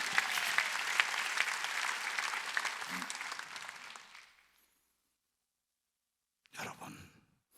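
A church congregation claps together at a Sunday worship gathering in an arena hall. The sustained, crowded clapping fades out after about four seconds, then falls silent before a short fresh burst near the end.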